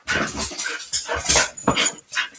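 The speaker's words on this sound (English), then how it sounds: "Listen to the dog pants." A tired dog panting close by in quick, uneven breathy bursts, with a few small whimpery sounds.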